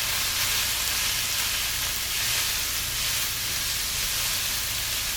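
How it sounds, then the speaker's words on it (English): Chopped aromatics seasoned with salt fry in a pan for a meat pie filling, giving a steady, close, hissing sizzle that holds evenly throughout with no voices. "So all the aromatic goes into the pan, seasoned with salt, and allowed to cook until tender crisp."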